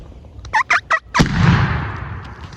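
A turkey gobbles in several quick bursts, then a single loud shotgun blast rings out during a turkey hunt in Virginia and trails off in a long fading echo.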